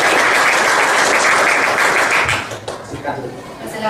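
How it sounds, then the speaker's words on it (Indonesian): A classroom breaks into applause for a student group, with loud, dense clapping that fades out after a few seconds. "kita beri tepuk tangan dulu untuk kelompok 2"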